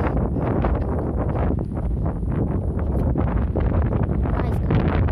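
Strong wind buffets the microphone beside a reservoir on a fishing outing, producing a steady, loud, roaring rumble that fills the whole recording with no breaks.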